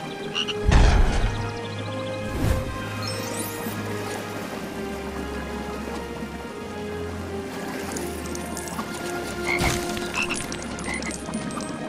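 Frogs croaking in the LEGO Harry Potter video game, a low repeated croak pulsing steadily under a soft rain-like ambience with occasional louder splashy hits, no talking.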